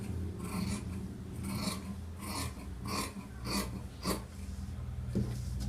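Scissors snip through blouse fabric during tailoring, a steady series of soft rasping cuts repeating about once a second, close and fairly quiet with no talking.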